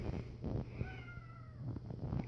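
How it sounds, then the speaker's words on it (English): A house cat meows a couple of times while someone repairs bad sockets on a Bone Busters 2 pinball machine, its rising cries close and clear over a low steady hum and faint handling noises. "And there's my cat who wants to help."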